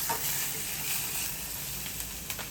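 Turmeric, red chilli powder, coriander-cumin powder and dry mango powder sizzle steadily in hot oil in a pan with onion, garlic and ginger, a continuous close frying hiss with faint stirring scrapes and no voices.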